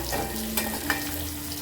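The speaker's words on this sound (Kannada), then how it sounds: "ಉಳ್ಳಾಗಡ್ಡಿನ ಚೆನ್ನಾಗೆ ಫ್ರೈ ಮಾಡಿರಿ. ಎಣ್ಣೆ ಒಳಗೆ ಫ್ರೈ ಆಗಬೇಕ್ರಿ ಉಳ್ಳಾಗಡ್ಡಿ ಚೆನ್ನಾಗಿ." Finely chopped onions fry in oil, giving a steady close sizzle with a couple of brief scrapes from stirring.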